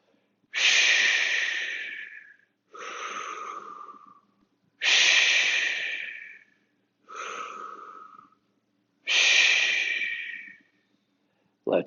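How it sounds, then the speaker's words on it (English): Heavy, forceful breathing during a fitness class exercise, five loud breaths in a steady rhythm, each sharp exhale followed by a shorter inhale, close to the listener with no talking. "Exhale up, inhale down, exhale, inhale, exhale,"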